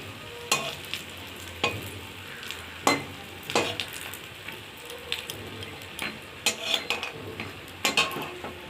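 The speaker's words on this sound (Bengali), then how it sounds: "ওর মধ্যে আমি একটু বড়িটা দিয়ে দিলাম। বড়িটা একটু লাল লাল করে ভেজে নেব।" Lentil dumplings (bori) fry in leftover oil in a wok, a soft sizzle running beneath repeated sharp clicks and scrapes of a spatula stirring against the metal, with no talking.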